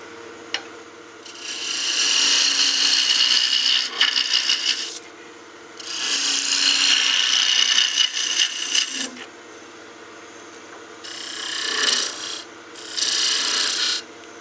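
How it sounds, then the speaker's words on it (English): A one-inch skew chisel takes peel cuts on wood spinning on a lathe, making several loud rasping bursts of a few seconds each over a steady motor hum, with pauses between cuts. "I'll switch back to the 1-inch skew for some peel cuts just to get this down to that right size we need for the nose"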